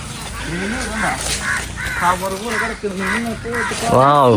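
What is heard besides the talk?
birds calling outdoors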